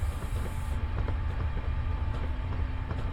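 A passenger train runs the Fife Circle route near Edinburgh in a train simulator game, a steady, loud low rumble with faint rhythmic clatter continuing unbroken throughout.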